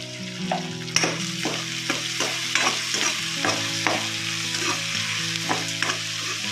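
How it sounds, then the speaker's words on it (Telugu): Onions frying in a pan for a fish and okra curry, a loud steady sizzle broken by sharp scraping clicks of a spatula stirring at an irregular pace, with no voices. "ఎందుకంటే తొందరగా వేగుతాయి ఎర్రగడ్డలు."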